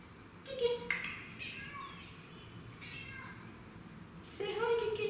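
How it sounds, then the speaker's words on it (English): A pet cat meows indoors, with a few plaintive cries near the start and a louder drawn-out meow at the end, faint background sounds between them. "It's my cat. Why are you crying?"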